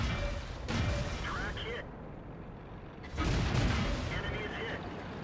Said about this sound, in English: Bang! That's half his health gone.